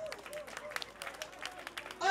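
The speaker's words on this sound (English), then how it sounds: "Another big round of applause for her." An audience at a reception party applauds in scattered, crisp claps that come and go in bursts. The clapping is moderately quiet and mixes with a voice talking over the crowd.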